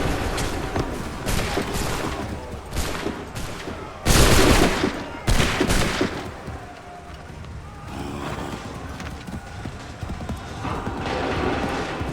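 Volleys of musket fire on command in an Assassin's Creed III Revolutionary War battle, several loud crackling bursts in quick succession with horse hooves and shouted orders mixed in.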